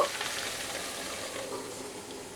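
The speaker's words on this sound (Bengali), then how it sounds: "2 থেকে 3 মিনিটের জন্য মিডিয়াম ফ্লেমে আমি কষিয়ে নেব" Vegetables and prawns sauté in a pan over a medium gas flame, a soft continuous sizzle and hiss with faint stirring, steady and fairly quiet throughout.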